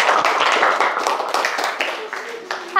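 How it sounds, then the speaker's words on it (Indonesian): Classmates clap for a student in a junior high school classroom, a short burst of uneven hand claps close by that thins out toward the end, with a voice speaking over it. "Terima kasih, tepuk tangan dulu buat Aan."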